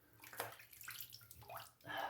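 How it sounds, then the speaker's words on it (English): Running water splashes as a razor is rinsed mid-shave with shaving cream, a soft, close, uneven gush with small trickling bursts. "Let me rinse up, go for a second."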